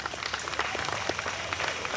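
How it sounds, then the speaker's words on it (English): Scattered applause from a concert audience at a freedom celebration show, somewhat distant and moderate in level, with individual claps standing out. "Give them a round of applause."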